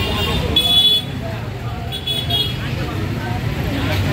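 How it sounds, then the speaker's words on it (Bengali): A Dhaka city traffic jam rumbles steadily with engines and road noise, while a couple of short car horn toots cut through early on and voices murmur in the background. "কি যানজট দেখেন"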